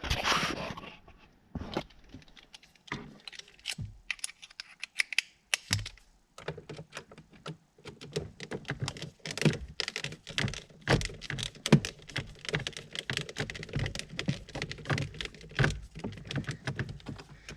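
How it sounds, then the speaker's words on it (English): Two small Phillips screws are backed out of the plastic cabin air filter holder on a 2020-2024 Ford Explorer, producing close, dense clicking and tapping at a quick irregular rhythm with brief pauses, no talking over it. "There's just the two little screws, Phillips right there. We're going to take those out."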